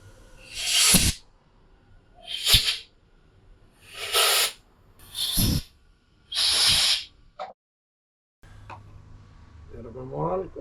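Brake and clutch cleaner is sprayed onto Harley Twin Cam engine parts in five short, sharp hissing bursts with brief pauses between. A quieter stretch follows, and a voice can be heard briefly at the end.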